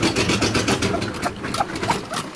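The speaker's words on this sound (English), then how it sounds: "You're gonna hear it crank over at some point." A Mercedes W123 Pullman limousine engine turns over and runs, a loud, close, rough mechanical churning with rhythmic pulses and a hint of exhaust leak.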